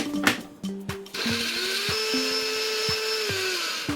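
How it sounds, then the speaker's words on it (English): A blender whirs steadily as it purees a sauce with balsamic vinegar, starting after a few clatters and holding a loud, even motor drone to the end. "Now I'm going to blend it."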